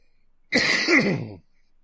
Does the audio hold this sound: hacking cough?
yes